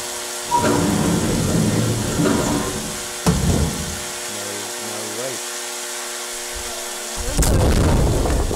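Blasts in the horror game SCP-022 The Morgue land as a few loud, heavy booms, the sharpest near the start and another late, with electronic hums and game noise between them.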